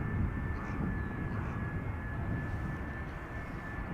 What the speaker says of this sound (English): The A350 from World to Fly / Corendon is flying northwest of me to the north on the downwind leg.